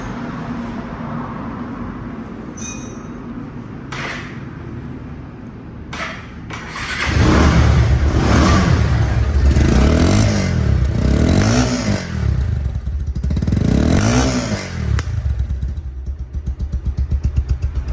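A Bajaj Pulsar double-disc ABS motorcycle engine idles, then starts and revs loudly several times in rising and falling surges, close by, with a rumbling idle between revs.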